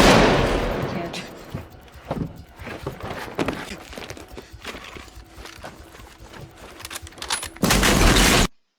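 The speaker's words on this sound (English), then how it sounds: "there's another round of gunshots" Soundtrack from the opening scene of the film Dunkirk, with bursts of gunfire and sharp impacts amid rumbling action noise, shots scattered irregularly, ending in a loud sustained roar before cutting out.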